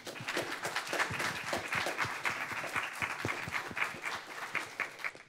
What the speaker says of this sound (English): can we give Vic and James another round of applause?